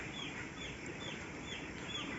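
Chickens on a chicken farm clucking faintly, a few soft repeated calls over a low steady background hum, with no talking.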